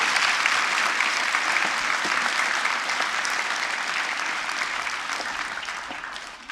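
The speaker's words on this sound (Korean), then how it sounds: "우리 청빙위원분들께 감사와 격려의 박수" A church congregation claps in thanks during a year-end worship service, giving steady, crowded applause that slowly tapers off over several seconds.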